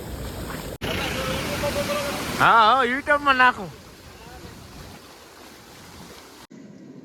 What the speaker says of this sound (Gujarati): આખું પુલિયું ટૂંકમાં છે, સુધી ઉપરથી ટપી ગયું છે પાણી